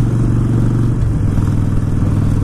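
A Harley-Davidson motorcycle engine running steadily in third gear, a loud, close, low rumbling drone that holds constant throughout with no talking.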